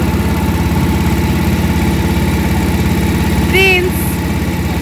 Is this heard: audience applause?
no